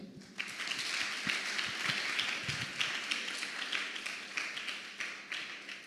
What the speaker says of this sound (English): Can we please have another round of applause for her?